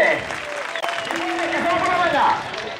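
Applause from a large crowd for contestants at a recortes bull-dodging contest in Cifuentes, a dense roar of clapping with an announcer's amplified voice calling out over it.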